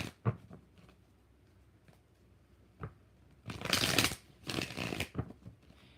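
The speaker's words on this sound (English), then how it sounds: "Faux shuffles for Anna Banana." Tarot cards are shuffled in quiet bursts. A few soft taps and riffles come first, then two louder, longer shuffling passes follow near the end in an otherwise still room.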